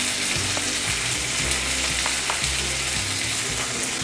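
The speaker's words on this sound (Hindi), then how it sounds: "दो मिनट करीब हो गए हैं प्याज को ऐसे भूनते हुए अब हम इसमें चौप टमाटर डालेंगे" Onions and chopped tomatoes for poha sizzle and fry steadily in a pan, a dense continuous crackle with occasional soft stirring scrapes and no voices.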